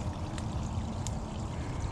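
Water drains through an opened gap in a beaver dam that has been reinforced with heaped material, a steady close rushing trickle that runs the whole time with no voices.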